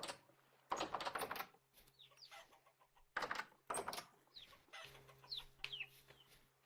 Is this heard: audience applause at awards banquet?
no